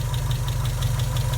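A Mitsubishi Lancer engine fitted with eBay headers, eBay intake and a full ratchet exhaust with a straight-through cherry bomb, running loud and close with a steady low rumble and faint rhythmic ticking.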